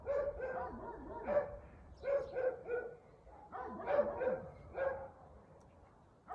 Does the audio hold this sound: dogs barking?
yes